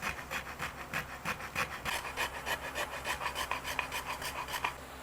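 A rasp shapes a wooden guitar neck in steady, rhythmic strokes, each a soft, close scraping rasp that repeats at a quick, even pace.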